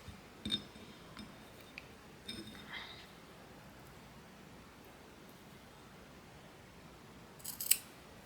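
Scissors cutting packaging material for a small gift box, a few quiet isolated snips spread out with long pauses between them in a quiet room, and a sharper crisp cut near the end.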